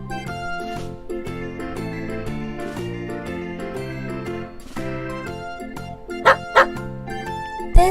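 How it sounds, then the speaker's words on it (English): A dog barks and yips in short bursts over bright, jingly children's music typical of a farm-animal learning game, with a couple of sharper, louder yaps near the end. "This is a dog."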